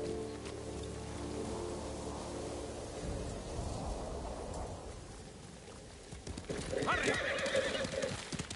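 Horse neighing in the video game Ghost of Tsushima, a whinny rising over steady rain-like ambience and soft hoof clatter, fairly close and clear with no talk.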